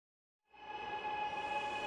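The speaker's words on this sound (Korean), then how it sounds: "지하철이 승강장 안으로 들어서자 기관사 김민지 씨의 움직임이 분주해집니다" A Gwangju subway train pulls into a station platform, its steady rumbling hum with tonal whine rising in from silence and holding loud and close.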